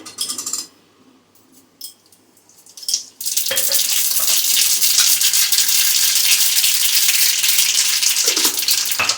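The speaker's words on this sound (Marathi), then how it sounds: "हे सगळं मिक्स करायचं आणि त्याला एक फोडणी घालायची आता" Cumin and mustard seeds hit hot oil for a tempering, bursting into a loud, steady sizzle that starts suddenly after a few seconds of quiet kitchen clatter and holds close up to the end.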